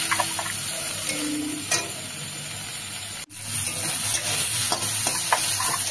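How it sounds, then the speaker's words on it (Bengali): Prawn heads frying in a pan give a steady, close sizzle with faint stirring scrapes, broken by a brief dropout partway through before the sizzle resumes. "চিংড়ির যে মাথাটা ছিল ওটাকেও কিন্তু আমি আবার ভেজে নিচ্ছি"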